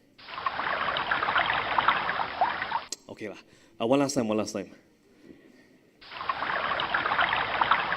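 High tide water flowing along a mangrove shore, a rushing, gushing wash heard in two bursts, with someone speaking briefly in the gap between them.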